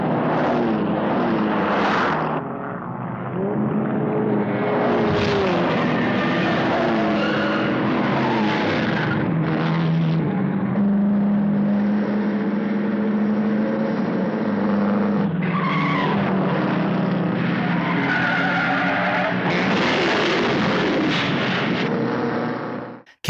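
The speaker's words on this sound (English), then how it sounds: "that insane Grand Prix with the race car drivers piling up after one another in a series of crashes" Race cars in a film's Grand Prix skid and crash one after another, loud screeching tyres and roaring engines layered with impacts, a dense continuous din with surges and sharp bursts throughout.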